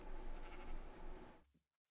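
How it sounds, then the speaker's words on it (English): A sheep bleats in the Minecraft GregTech New Horizons modpack: one long, wavering bleat lasting about a second and a half, quiet and alone, then silence. "Noisy ass sheep."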